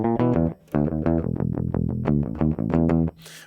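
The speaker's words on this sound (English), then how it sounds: "okay, so that's a nice bass sound. That's just the DI." Hofner Beatle bass with flatwound strings, played clean straight into a DI: a run of plucked, punchy notes in a bouncy rhythm with brief gaps, dry and close, no talk.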